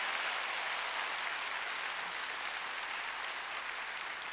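A church congregation at a Wednesday worship service applauds in a dense, sustained wash of clapping, even and continuous throughout with no gaps.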